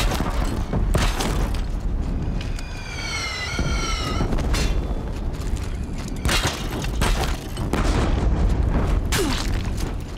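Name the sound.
Deathbringer machines firing explosive shots, video game Horizon Zero Dawn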